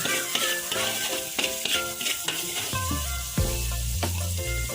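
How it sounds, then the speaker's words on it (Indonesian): Seasonings, including MSG and mushroom or chicken stock powder, being stir-fried in a pan: a steady sizzle with scraping stirs, heard under continuous background music. "Kita tumis sampai harum."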